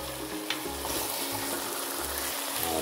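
Chicken with pineapple and soy sauce sizzles steadily in a pan, a dense continuous frying crackle close up with faint low thumps underneath and no voices.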